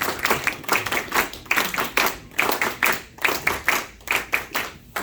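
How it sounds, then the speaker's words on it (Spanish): An audience at a political party gathering in Paterson, New Jersey applauds the party's political commission president, with a rhythmic clapping that rises and falls in unison waves, loud and fairly near. "Un fuerte aplauso para el compañero presidente de la Comisión Política."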